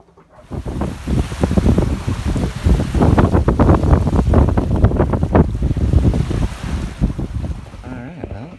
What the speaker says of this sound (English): here's the ocean